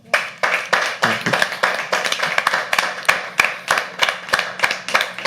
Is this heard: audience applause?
yes